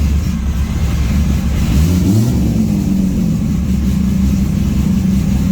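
A 1200hp 240 car with a 2JZ engine swap and a G101A turbo idles roughly, its timing too far advanced. The loud, close, lumpy engine note swells into a brief rev before settling back to a churning idle.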